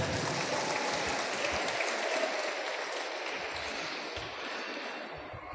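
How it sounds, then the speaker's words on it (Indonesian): Crowd applause for a Rebana group at a Nahdlatul Ulama gathering, a dense, sustained wall of clapping from many people that stays even and slowly eases toward the end. "Tepuk tangan untuk grup Rebana."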